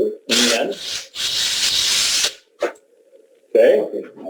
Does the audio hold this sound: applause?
no